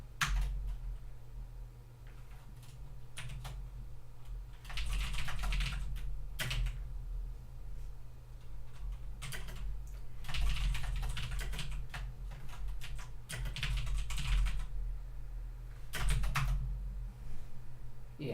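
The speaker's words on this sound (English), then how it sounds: "let me continue typing here" Typing on a computer keyboard, close and clear, with bursts of rapid key clicks separated by short pauses over a faint steady hum.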